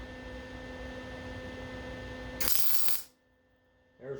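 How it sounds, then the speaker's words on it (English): Cyclekart parts being spot welded: a steady electrical hum is cut by one loud, harsh crackling burst lasting about half a second, then near silence before the noise returns. "let me get a spot weld on this right here."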